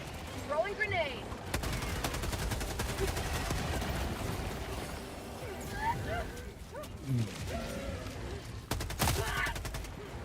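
Dense bursts of automatic gunfire and scattered blasts fill a Helldivers firefight, with rapid rattling volleys coming in waves and voices calling out amid the shooting.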